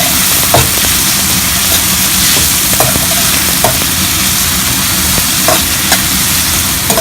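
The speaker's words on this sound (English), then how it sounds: "Will fry nicely until onions become brown." Onions, mint, coriander and chilies fry in an aluminum pan, giving a steady loud sizzle throughout with occasional sharp crackles and stirring scrapes, no voices.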